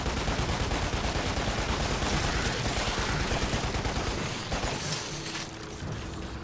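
Sustained rapid gunfire in the shooter Lost Planet, a dense mechanical rattle of continuous shots that holds loud and steady, then thins slightly toward the end, with no talk over it.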